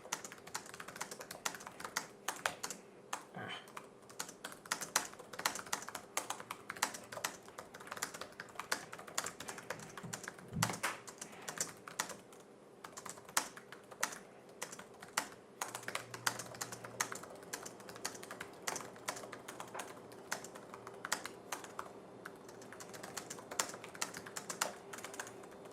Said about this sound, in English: I'm going to go ahead and do a typing test just so I can get a feel for how the keyboard works